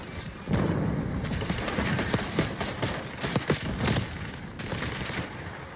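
Video game gunfire from dual akimbo guns crackles in rapid bursts of sharp shots, loud and close over a dense, noisy battle background.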